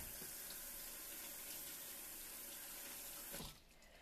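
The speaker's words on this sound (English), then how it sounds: "Let me rinse it off." Running tap water pours steadily into a kitchen sink while seafood is rinsed under it, a faint, even hiss that cuts off abruptly near the end.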